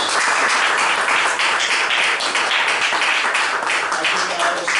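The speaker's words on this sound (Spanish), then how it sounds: "Denle un fuerte aplauso al Señor." A church congregation at a youth service claps loudly and continuously, dense steady applause filling the room for several seconds with some voices mixed in.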